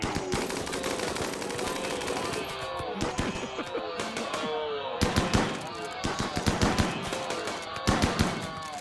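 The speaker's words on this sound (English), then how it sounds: "It's the minigun." A minigun fires in a shooter video game, sustained rapid bursts of gunfire with dense rattling over a busy game soundscape, while a person talks throughout.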